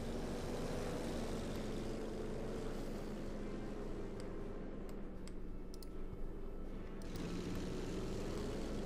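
Aircraft drone overhead during a Company of Heroes 2 battle, a steady low engine hum filling the whole stretch with faint clicks and battlefield noise layered above, no voices.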